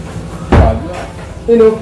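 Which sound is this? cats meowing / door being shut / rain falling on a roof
door being shut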